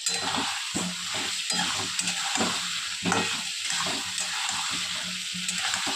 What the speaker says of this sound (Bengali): আবার একটু কষিয়ে নেবো যতক্ষণ না পেঁয়াজ আদা রসুনের কাঁচা গন্ধটা যায়